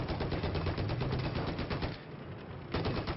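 A tank's heavy machine gun fires in a video game match, a rapid, continuous rattling burst up close, briefly easing off before resuming at full loudness.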